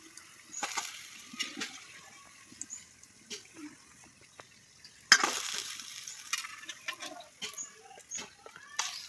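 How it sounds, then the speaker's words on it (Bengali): Semolina sitabhog sweets fry in hot oil with a soft, intermittent sizzle, broken by scattered clinks and stirring scrapes and a sharper clatter midway; no one speaks. "মিষ্টিগুলো আমি লাল লাল করে ভেজে নিয়েছি, এবারে আমি তুলে নেব।"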